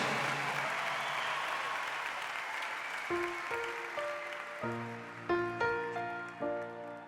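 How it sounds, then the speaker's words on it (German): Concert crowd applauding in a large arena during a live show, a dense clapping wash that thins after a few seconds as keyboard or guitar notes start to ring out over it. "gebt ihm noch mal einen kurzen Applaus hier"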